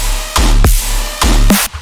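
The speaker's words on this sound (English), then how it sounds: "too much sidechain release sounds like this." Heavy electronic music pumps in exaggerated surges from excessive sidechain compression release, the volume ducking hard on each kick and swelling back slowly, loud and alone.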